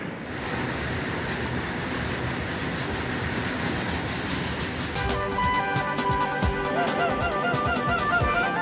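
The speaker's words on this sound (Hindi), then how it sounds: "3 किलोमीटर लंबी भारतीय रेल की मालगाड़ी की, जिसे सुपर एनाकोंडा ट्रेन कहा जा रहा है।" A very long Indian Railways freight train, the roughly 3 km Super Anaconda, rumbles past in a steady roar of rolling wagons, joined midway by a rapid clatter of wheels over rail joints and faint squealing, with no talk.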